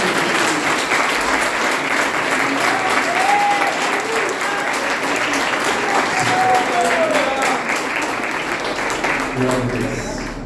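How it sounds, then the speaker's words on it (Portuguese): Church congregation at a men's congress applauding, sustained dense clapping with cheers and voices mixed in, loud and steady throughout before tapering slightly at the end. "Aplauda Ele, porque Ele merece."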